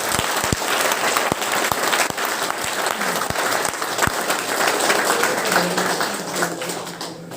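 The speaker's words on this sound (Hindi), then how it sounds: "आप जोरदार तालियां बजाओ तो एक बार कोशिश करो।" Loud, sustained audience applause fills a hall during a leadership development training program, with a dense wash of clapping running steadily throughout and a few sharper individual claps standing out near the start.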